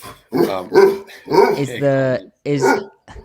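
A dog barks and yips close by, several vocal bursts with a whine-like drawn-out note in the middle, loud and clear against a quiet room.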